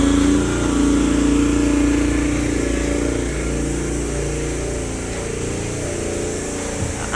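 A motorized concrete buggy's engine runs steadily at close range while a sidewalk is poured, a continuous low rumble with a brief higher whine early on, no speech.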